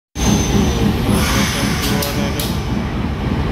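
A CC 203 diesel locomotive from the Yogyakarta depot warming up at a station, a loud steady engine rumble with a constant drone and brief higher bursts midway.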